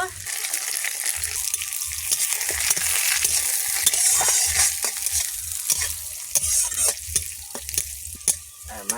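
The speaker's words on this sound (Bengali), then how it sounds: "লঙ্কা দেবো তেল দেবো রসুন দেবো তেজপাতা দেবো" Chili, garlic and bay leaf sizzle and crackle in hot oil in a home kitchen pan, with steady loud frying and frequent sharp pops and stirring scrapes throughout.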